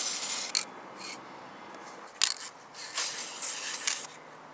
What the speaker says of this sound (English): I'm also going to do some spray painting of some tin cans.